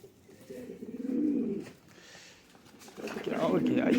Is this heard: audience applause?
no